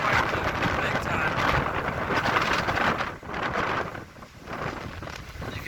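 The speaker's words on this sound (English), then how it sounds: "here comes another huge gust coming from that way now" Strong wind gusts roar steadily during a severe thunderstorm, buffeting the microphone outdoors as trees whip around, with the rush briefly easing before surging again.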